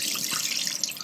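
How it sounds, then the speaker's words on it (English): Soaking water pours off chickpeas into a kitchen sink in a steady, bright stream with small splashes, continuous and close. "So what I'm going to do now is basically just drain off the soaking water."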